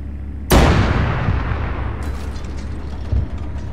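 Artillery fire in a video game: one loud, close boom with a long rumbling decay, followed by a fainter second thud near the end.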